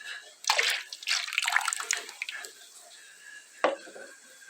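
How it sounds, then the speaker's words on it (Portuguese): Water is poured into a homemade probiotic mixture with lactobacilli and baker's yeast and stirred in, giving soft uneven splashing and sloshing, then one sharp clink near the end. "Misturando aqui o restante da água."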